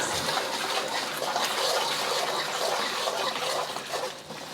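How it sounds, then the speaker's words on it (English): Cornstarch slurry poured into a well of simmering Beijing fried sauce for zha jiang mian noodles, a close, steady liquid pour and bubbling sizzle lasting several seconds before tapering off. "And pour in the slurry."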